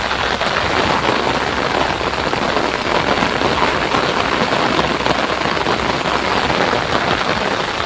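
Steady, dense rain pours down over a village in Gujarat with no wind, a loud unbroken hiss that fills the whole stretch without pause.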